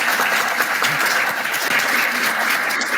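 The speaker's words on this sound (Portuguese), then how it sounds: "eu peço uma salva de palmas para o professor" Steady applause from an audience honouring a teacher, dense and continuous clapping filling the whole stretch at close range with no talk over it.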